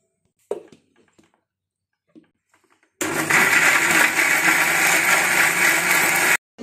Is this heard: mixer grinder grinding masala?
yes